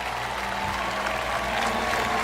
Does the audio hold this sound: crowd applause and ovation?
yes